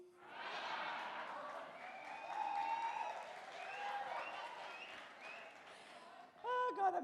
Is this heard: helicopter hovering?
no